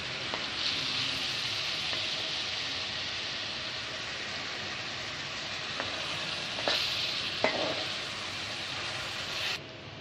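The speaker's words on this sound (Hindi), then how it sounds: "किए हुए प्याज कढ़ाई में डाल के इसमें हस्बे ज़रूरत ऑयल डालें और उनको लाइट ब्राउन होने के लिए छोड़ दें।" Chopped onions fry in oil in a kadai as they brown for a baingan bharta, giving a steady, even sizzle throughout with a few faint clinks near the end and no talking.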